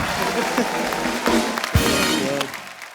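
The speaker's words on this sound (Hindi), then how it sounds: "जोरदार तालियां हो जाए अरिजीत के लिए" A studio audience at a comedy talk show bursts into applause, a fairly loud clatter of clapping with a person talking over it before it thins out near the end.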